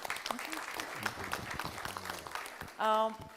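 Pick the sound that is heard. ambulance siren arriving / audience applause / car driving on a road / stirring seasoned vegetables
audience applause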